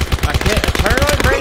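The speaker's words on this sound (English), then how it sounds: "Shooting." Rapid automatic gunfire in a video game, a fast, loud, close stream of shots with brief tonal pings over the top.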